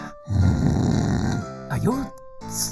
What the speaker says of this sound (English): Are you snoring?